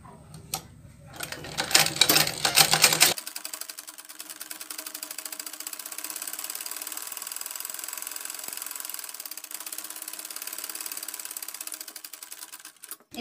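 A sewing machine stitches a petticoat, starting with a brief burst of fabric handling, then settling into a fast, steady mechanical chatter of needle strokes that runs evenly before stopping.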